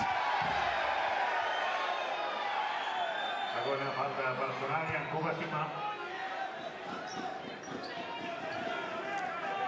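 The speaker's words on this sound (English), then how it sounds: "Crowd reacting to Thompson's reaction after they called the foul before the shot." A basketball arena crowd in a Champions League game between BAXI Manresa and Filou Oostende reacts to a foul call with a steady roar and murmuring jeers that swell and hold, while a commentator talks over it.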